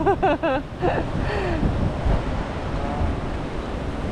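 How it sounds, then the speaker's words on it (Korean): Rough surf pounds a beach at Menton in southern France, a broad continuous roar of breaking waves with wind buffeting the microphone, preceded by a brief bird-like chirp at the start. "거칠다, 파도가"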